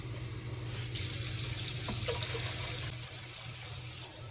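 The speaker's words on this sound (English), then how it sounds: "I'm going to put a little extra water in it." Steady rush of tap water pouring into a pot for about three seconds, a low hum underneath, then the flow shuts off.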